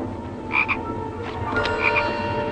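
A frog gives a handful of short, rasping croaks in quick bursts spread across a couple of seconds, fairly close and over a steady low background hum.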